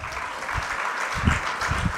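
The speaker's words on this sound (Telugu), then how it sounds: "చప్పట్లు కొట్టారు ఒకసారి" A church congregation claps together during a sermon in a house of worship, a steady moderately loud wash of hand claps with a few stronger bursts, no voices over it.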